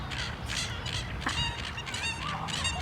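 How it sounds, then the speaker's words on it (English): Ducks outdoors in nature quack and honk repeatedly at a moderate distance, a run of overlapping calls over a steady background hiss, with no talk. "I don't know if you guys can hear them quacking along."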